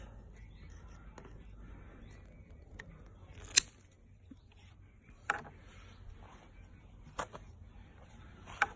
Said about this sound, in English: Now, quickly grab hold of the snips,